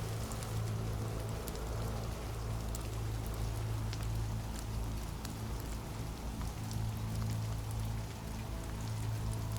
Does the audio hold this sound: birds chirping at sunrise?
no